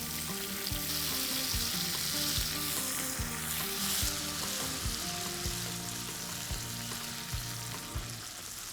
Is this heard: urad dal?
yes